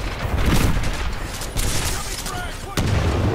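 Dense gunfire in the video game Titanfall 2, a loud continuous barrage of shots with booming bursts, crowding the whole stretch and briefly swelling near the end.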